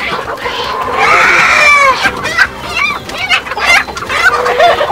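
Local chickens on a farm in Baglung, Nepal cluck and squawk loudly and close up, with a burst of calls followed by scattered clucks and a faint voice in the background.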